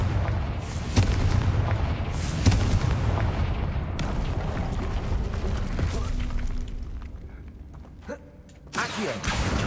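Repeated Confringo fire spell blasts from the game Hogwarts Legacy on PS5, heavy booming bursts one after another amid busy combat noise, with a voice calling out spell names over them.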